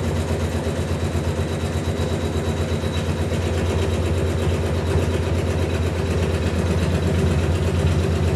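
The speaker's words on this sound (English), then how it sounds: "So now I can press start, and hopefully this now will join the backing piece to the rest of it." A Janome MC9900 embroidery machine hums and chatters steadily as it stitches an in-the-hoop coaster, joining the backing piece, with a fast continuous rhythmic whir close by and no talk.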